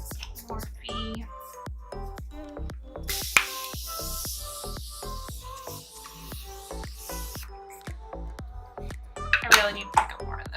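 Morphe makeup setting spray fires a single sustained, close hissing mist for a few seconds, set among quiet taps and soft rustles with a few clicks near the end.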